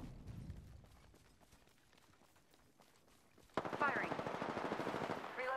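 Rapid automatic gunfire from a shooter video game bursts in suddenly after a few quiet seconds, then keeps up as a loud, dense, sustained volley of shots.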